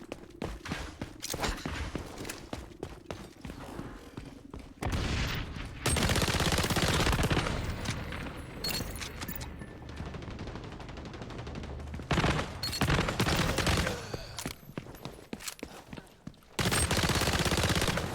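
Gunfire in the shooter game XDefiant, with sustained bursts of automatic shots and heavy firefights running nearly throughout, pausing briefly, with occasional footsteps and no speech.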